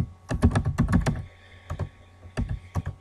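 Rapid keystrokes on a computer keyboard as a website address is typed, close and clear, in two bursts of quick clicking separated by a short pause, with no talking.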